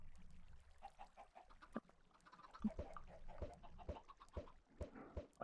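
Chickens hatched from thrown eggs in Minecraft cluck in short, scattered bursts, the game's sharp clicks and taps falling among them, all quiet and close.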